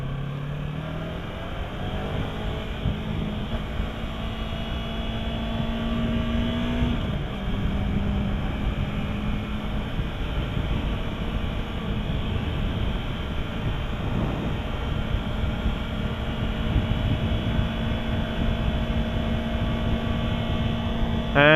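A 2015 Yamaha R3 320cc motorcycle engine drones steadily through a test ride, its pitch climbing, dropping at a gear change, then holding a sustained whine at higher RPM, close and continuous without talk.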